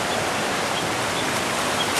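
A Yabakei waterfall in high flow gives a constant hissing roar of falling water, steady and near, with no speech over it.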